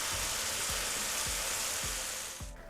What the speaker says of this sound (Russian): Сюда я заливаю сок из спелых помидор